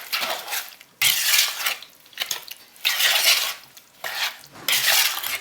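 A spoon scrapes and clinks through cherries and flour for a pie filling, in four or five distinct stirring bursts separated by short pauses, close and moderately quiet.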